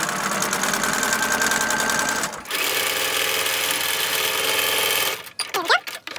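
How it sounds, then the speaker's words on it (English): A sewing machine stitches a bottom strip onto a log cabin quilt block with a steady, fast mechanical whir. It stops briefly, then runs again for a few seconds, and the clip ends with some handling noise. "now we're gonna go ahead and sew our bottom strip on"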